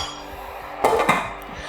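A pot lid closes over Taiwanese meat sauce (lu rou zao) with a quick metallic clink and a second lighter knock, close by over a low simmering background.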